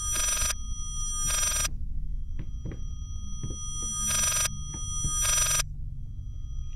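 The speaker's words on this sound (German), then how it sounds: "Das ist ein Telefon." An old-style telephone bell rings in bursts inside the horror video game Layers of Fear, four loud trilling rings separated by pauses, with soft footsteps and thuds in between and no talk.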